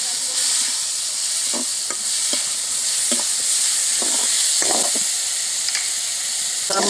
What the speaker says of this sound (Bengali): সব মশলা দিয়ে ভাজি করে নিচ্ছি